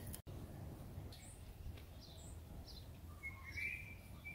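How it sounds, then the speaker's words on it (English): Scattered bird calls and chirps at a vernal pool over a steady outdoor hum, with a brighter, clearer call rising near the end. "Can you hear all those birds?"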